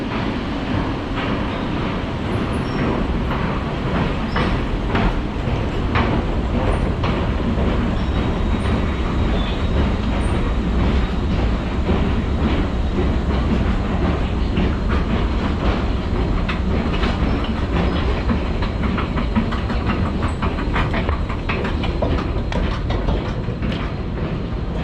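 A Thameslink train runs along the rails in London, a loud, steady rumble with continuous rhythmic clatter from the wheels and no voices throughout.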